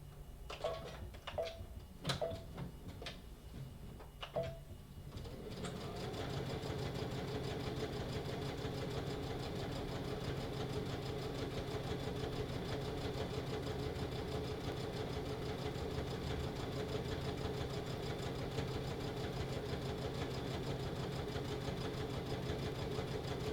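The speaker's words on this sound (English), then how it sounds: "then we just sew the sides of our bag" A sewing machine stitches the sides of a fabric bag. A few clicks and taps come first, then a steady, continuous mechanical whirring hum running close and loud to the end.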